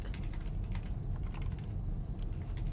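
Rapid clicking of computer keyboard keys, a close, dense flurry of taps that keeps up steadily for nearly three seconds with no one speaking.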